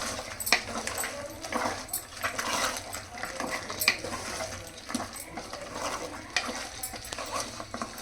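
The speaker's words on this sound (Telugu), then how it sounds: "ఇది మొత్తం ఒకసారి కలుపుకుందాం" Mutton curry with poppy seeds is stirred in a pot, giving steady scraping and clinking of a spoon against metal over a faint sizzle.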